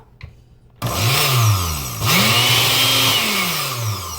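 A mixer grinder grinding dry-roasted spices starts abruptly with a loud whirring roar, its motor pitch dipping and rising as it churns, running continuously to the end.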